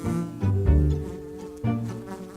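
A bee buzzes in short bursts while gathering and packing pollen, close and loud, the drone rising and dropping between brief pauses.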